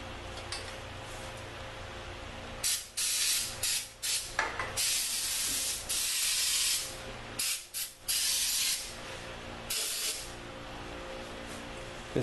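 WD-40 lubricant sprayed onto the suspension bushings of a 2004 Yukon Denali in a series of short and longer hissing bursts separated by brief pauses, close and clear over a steady low background hum.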